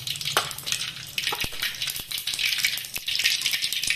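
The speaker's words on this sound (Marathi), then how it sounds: "सुरुवातीला मी मोहरी टाकते तेलामध्ये." Mustard seeds and cumin crackle in hot oil for a tempering, a dense close sizzle with sharp pops and a few metallic clinks of a spoon on the pan.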